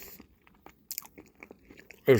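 Soft wet chewing of ripe, super thick plantain flesh, a few faint moist bites and smacks close to the mouth, ending in a brief louder crunch.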